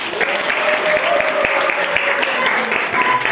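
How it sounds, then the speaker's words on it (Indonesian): A classroom of students applauds group one after an economics presentation, steady loud clapping throughout with faint voices mixed underneath. "Tepuk tangan dulu untuk kelompok satu"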